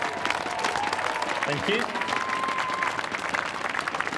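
A crowd at a golf exhibition gives a golfer a steady burst of applause. The clapping is dense and continuous, and a voice briefly speaks over it.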